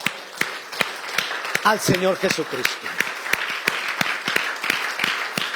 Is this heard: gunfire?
no